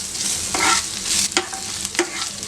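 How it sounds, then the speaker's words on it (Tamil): Grated coconut lightly roasting in a pan, a steady soft sizzle with scraping stirs that come at intervals, close and loud, with no voices. "லேசாக இந்த மாதிரி வறுத்துக்குங்க."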